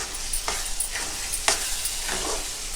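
Tomato curry (thota kura) cooking in oil in a pan, a steady close sizzle with soft bubbling pops and a few brief scraping stirs, no voices.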